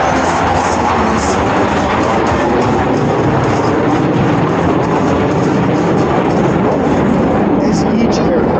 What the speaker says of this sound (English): As each aircraft accelerates to 500 miles per hour, they will perform a half Cuban 8 reversal turn.